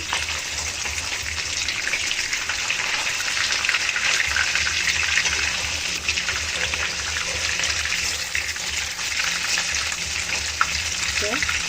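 Bombay duck (loitta) fish fries in hot oil in a pan with a steady, dense sizzle that holds at an even level throughout, with faint kitchen movement and a brief voice in the background.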